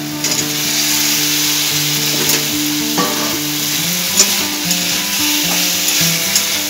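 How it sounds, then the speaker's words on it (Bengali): Fried pointed gourd, boiled potatoes and spices are stirred together in a hot pan, a loud continuous sizzle with scraping strokes over a soft steady tonal hum. "পটল, আলু আর মশলা খুব ভালো করে আমি মিশিয়ে দিচ্ছি"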